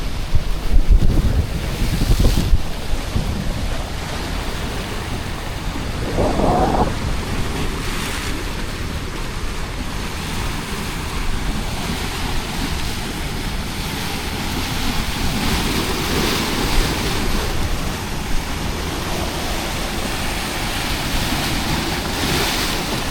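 Sea waves break and wash along the rocky coast by the El Max lighthouse in Alexandria, a steady surf roar with strong gusting wind buffeting the microphone and no voices.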